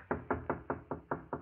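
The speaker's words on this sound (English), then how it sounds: "I was in my room when there was a knock on the door." Seven crisp knocks on a door, spaced evenly and close up, form a sound effect from an old radio drama, with no voices over them.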